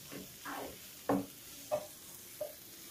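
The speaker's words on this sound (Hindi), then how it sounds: "हम इसे चलाते हुए पका लेंगे ताकि जो मसाले हमने डाले हैं वो अच्छे से पक जाएं।" Spices for dal tadka sizzle in a pan while being stirred, a steady frying hiss broken by three sharp scraping stirs of the spoon, close up with no voices.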